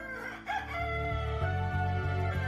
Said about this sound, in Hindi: सुब्बैया रंग बिरंगी मुर्गियों को एक तरफ एक टोकरी और दूसरी तरफ एक और टोकरी में रखता था